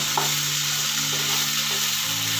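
Flattened rice pulao ingredients fry in a mix of white oil and ghee while being stirred, giving a continuous close sizzle over a low steady hum.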